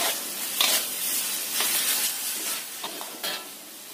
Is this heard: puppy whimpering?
no